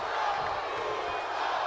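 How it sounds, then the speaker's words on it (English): A steady game crowd roars and cheers through a WWE 2K20 wrestling match, a dense continuous wall of noise with no break. "The crowd fully behind the Usos right now"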